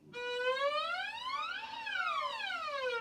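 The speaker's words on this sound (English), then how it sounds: "a siren is where you take your first finger and you put it on red, and then you play a note," A bowed string instrument played by fourth-grade students slides up in pitch in a siren-like glissando, peaks, then glides back down and up again, clear and moderately quiet.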